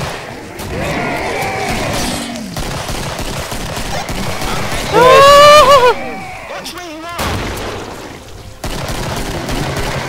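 Gunfire in the Killing Floor video game, loud repeated shots and blasts amid chaotic game sound, with shouting voices and a grenade-like burst in the middle.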